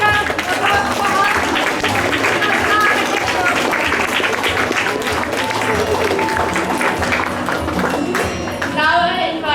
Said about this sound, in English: A huge round of applause for all.